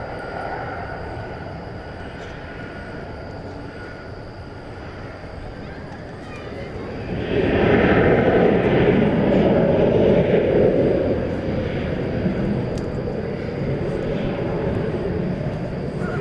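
A British Airways Super Speedbird airliner at DFW Airport, its engines a broad, loud roar that swells sharply midway and holds, then eases slightly while staying strong to the end.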